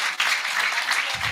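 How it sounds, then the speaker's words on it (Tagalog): An audience at a new leaders orientation claps for Rolando, a steady burst of many hands applauding, fairly loud and close, with no one speaking over it. "Palapakan natin si Rolando."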